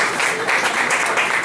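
Church congregation applauding during a Sunday service, a dense, steady wash of many hands clapping together at close range, continuous through the short moment.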